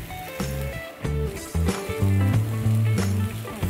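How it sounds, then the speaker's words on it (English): Boiled, peeled taro pieces landing in a hot pan with green chillies, giving a loud close sizzle and crackle with clattering as the pieces go in, while pitched tones from music run underneath. "Now is the time to add the boiled and peeled taros."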